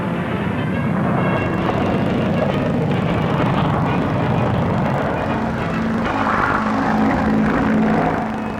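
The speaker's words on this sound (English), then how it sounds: "The Avro 707B differs from the 707A by having a dorsal intake for its Derwent turbojet" An Avro 707B delta-wing research aircraft with a Derwent turbojet roars steadily at an air show. The loud, broad jet noise swells slightly as it passes.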